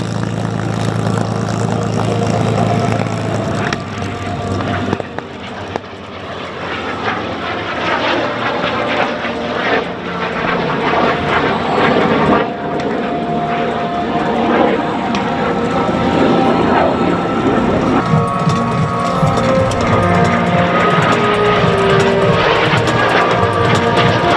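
A BAC Jet Provost T.5 jet trainer's Armstrong Siddeley Viper engine roars loudly and continuously at an air show, its pitch shifting as it passes, with people talking underneath.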